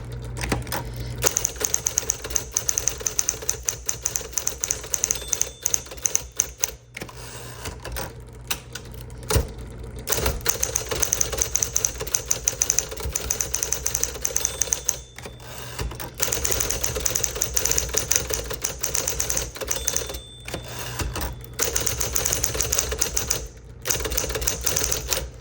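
A 1961 Smith Corona Electric 5 electric typewriter is typed on briskly, its rapid clattering keystrokes running in long bursts broken by brief pauses, loud and close with a faint steady motor hum underneath.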